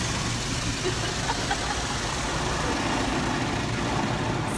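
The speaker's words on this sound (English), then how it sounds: "Sierra, we're going through a car wash." A car passing through an automatic car wash is surrounded by a loud, continuous rushing spray and machinery noise under a faint engine hum, with no talking.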